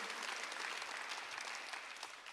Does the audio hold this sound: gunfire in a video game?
no